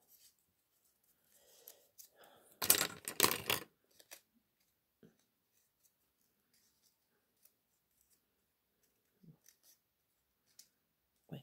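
Scissors snip through paper in a short, close burst of crisp cuts lasting about a second, followed by scattered light handling clicks and rustles in an otherwise quiet room.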